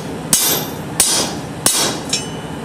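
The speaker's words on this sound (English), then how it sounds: "Give it a couple good whacks." Hammer striking a heated railroad spike held in a fuller during knife forging, four sharp, evenly spaced blows ringing close and loud with short decays.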